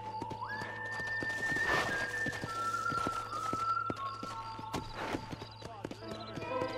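A horse whinnies and its hooves clop in Red Dead Redemption, over sustained whistle-like game tones and a low hum.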